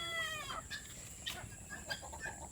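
Broiler chickens cluck softly and intermittently while being weighed on a poultry farm, with a few brief calls over a steady low background hum.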